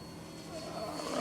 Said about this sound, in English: So the helicopter's sitting here right now in GPS mode, just hovering.